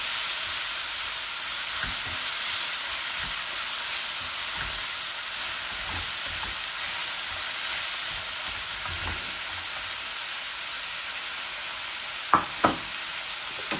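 Onion frying in oil with garlic makes a continuous, even sizzle close by, with a couple of sharp knocks near the end, no talking.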